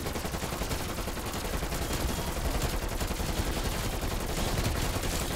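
Dense, unbroken gunfire from a zombie shooter video game, rapid shots blurring into a steady loud roar for the whole stretch.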